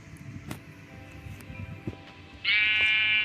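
A sheep in a video game bleats once, loud and close, right after being sheared, following a stretch of quieter game sounds with no talking.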